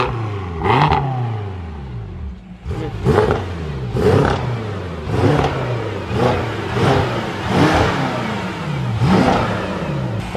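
An 800-horsepower BMW M5 build revs in a series of about seven short throttle blips, each a loud, close rising roar that falls back to a rumbling idle between pulls.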